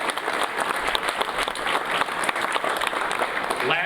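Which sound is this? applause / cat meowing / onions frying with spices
applause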